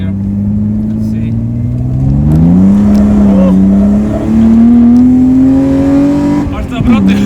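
A BMW E30 fitted with a new engine accelerates hard in second gear, its loud, rising drone climbing steadily in pitch from inside the car, with a brief dip before climbing again near the end as voices talk over it.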